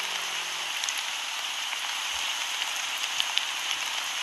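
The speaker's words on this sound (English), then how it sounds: "It's raining, it's raining" Steady rain hisses down in a Roblox town roleplay game, a constant wash of drops pattering on surfaces with a few brighter individual splashes, unbroken and fairly loud throughout.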